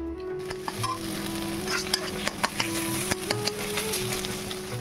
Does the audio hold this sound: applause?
no